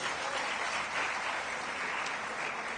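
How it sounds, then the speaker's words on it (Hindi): Crowd applause at a political rally, a thick, continuous patter of many hands clapping at once, steady and fairly distant in tone for the whole stretch, with no speech over it. "मंचासीन सभी नेताओं के लिए जोरदार ताली बजाइएगा"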